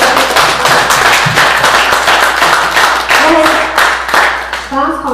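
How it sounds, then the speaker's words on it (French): Warm audience applause fills a French-language hall at a talk on accessibility, steady dense clapping from a crowd that stays loud throughout, with a voice beginning to speak near the end. "donner une chaude main d'applaudissement à Titi et Benoît"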